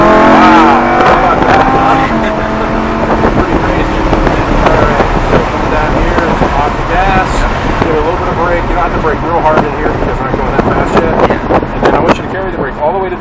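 Lamborghini Huracan LP610-4 accelerating on the Summit Point Motorsports Park track, a loud sustained engine roar building through the revs with crackling bursts, while an instructor talks throughout.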